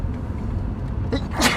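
A single sharp sneeze bursts out near the end, close and fairly loud, over a steady low background rumble.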